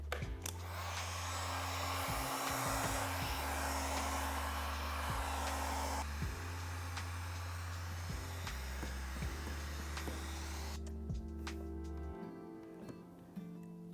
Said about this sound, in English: Grab my heat gun now.